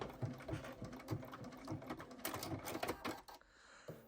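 A domestic sewing machine stitching a pencil case seam, running in a steady rapid needle rhythm with a brief back tack, then stopping abruptly as the seam is fastened off, heard up close without talk.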